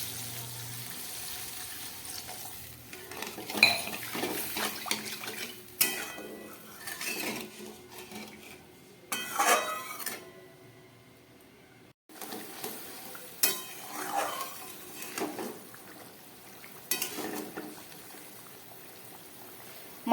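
Water is poured into a pan of fried spices for a Bengali fish curry of kai fish, bringing bursts of sizzling and splashing with stirring scrapes in between, moderately close and with no talk.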